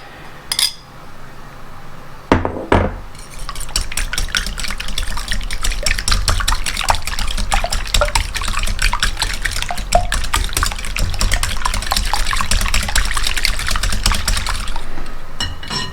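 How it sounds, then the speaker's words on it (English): Eggs whisked in a bowl for a from-scratch pumpkin pie: steady, rapid clicking of a whisk against the bowl, close and continuous for about thirteen seconds. "We are going to whisk these eggs together."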